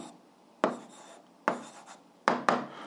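Chalk or a marker scratches across a classroom board in four short strokes, each a sharp onset trailing into a scraping fade, the last two in quick succession, close and clear with no talking over them.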